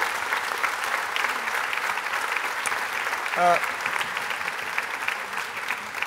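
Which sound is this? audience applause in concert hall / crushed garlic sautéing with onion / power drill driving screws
audience applause in concert hall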